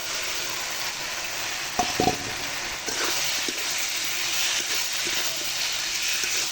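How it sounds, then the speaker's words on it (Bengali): Drumsticks and potatoes drop into frying spice paste in a pan, raising a steady loud sizzle and hiss with a few brief clatters and stirring knocks near the start, continuing evenly to the end. "মশলা কষানো হয়ে গেছে এখন দিয়ে দিচ্ছি সাজনা আর আলুগুলো"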